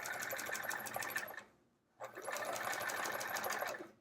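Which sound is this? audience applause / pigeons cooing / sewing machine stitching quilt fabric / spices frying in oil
sewing machine stitching quilt fabric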